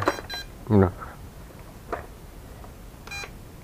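A couple of short electronic beeps ring out from a Bugs 3 Mini drone's remote control, signalling speed mode, amid low background noise, with brief stretches of talking nearby.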